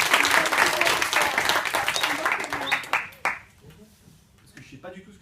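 Applause and clapping from a classroom audience at a slam improvisation session, loud at first and then fading after about three seconds as a voice begins speaking over the last scattered claps.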